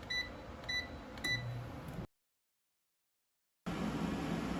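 An air fryer beeps in quick short chirps as its temperature is set to 400 degrees Fahrenheit and a 10-minute timer is keyed in, three clustered beeps over a low room hum before a sudden silence.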